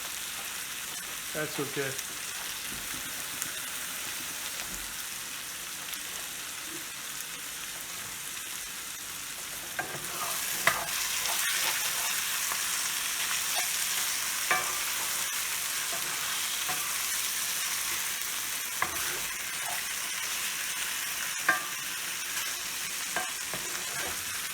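Frozen Italian sausage sizzles and fries steadily in a pan with sauce, the crackle growing louder midway with scattered pops, while a voice briefly speaks over it.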